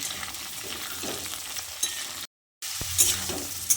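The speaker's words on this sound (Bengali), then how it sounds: "এবার পেঁপেটা দিয়েও আলুর সঙ্গে একসঙ্গে আরও কিছুক্ষণ ভেজে নেব" Potato and papaya pieces fry together in oil in a pan, a steady close sizzle with scraping stir strokes throughout, broken by a brief silent gap partway through.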